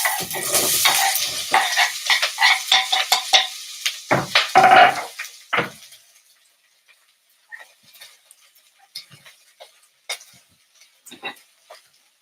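Four onions dropped into a hot pan, a loud burst of sizzling and clattering stirs at first, fading into sparse, quiet crackles and ticks.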